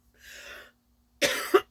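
A few harsh coughs close by, a softer throaty burst first, then two sharp loud coughs in quick succession after a brief pause.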